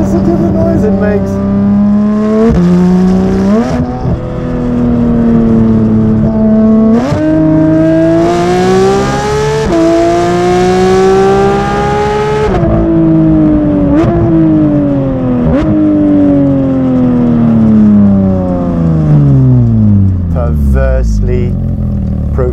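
A straight-piped Porsche 911 GT3 (992) revs hard and loud, its flat-six exhaust rising and falling in pitch through several sustained pulls close by, with a talking voice over parts of it.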